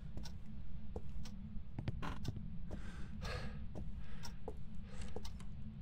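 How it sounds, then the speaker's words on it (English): A door creaking open in the horror game Phasmophobia: a faint, drawn-out creak mixed with scattered small clicks and ticks against a low background rumble. "Oh, I finally heard a door open."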